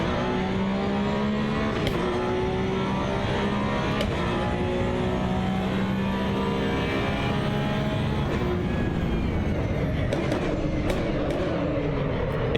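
A race car in the Assetto Corsa EVO sim racing game drones continuously with its engine under load, its pitch rising and falling through gear changes, while tyre noise hisses beneath and brief clicks cut through.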